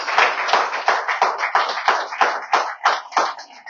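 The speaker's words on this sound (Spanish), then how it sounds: "Denle un aplauso al Señor Jesucristo." A church congregation claps in unison at a steady, fairly quick beat, each clap a sharp, close, moderately loud burst with no voices over it.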